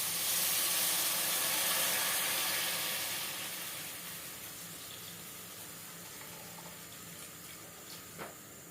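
Water pours steadily into a cooking pan with a bright rushing hiss that gradually softens and settles into a quieter trickle, close by with no talking.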